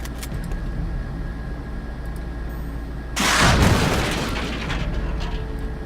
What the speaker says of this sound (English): I don't mind killing time just exploding walls right now